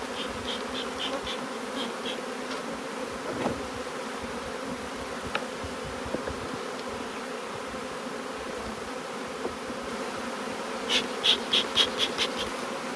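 Honey bees drone in a steady, dense hum throughout, with a few louder buzzing passes close by near the end, while hive frames are handled.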